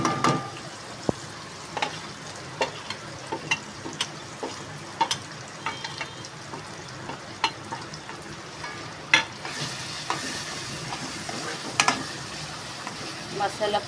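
Onion-tomato masala with red chili powder is stirred and fried in hot oil, a steady close sizzle punctuated by frequent sharp scrapes and clinks of the spoon against the pan.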